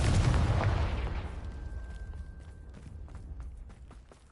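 A Confringo blasting spell from Hogwarts Legacy erupts in one loud, booming explosion, then its rumble and crackle fade away alone over several seconds.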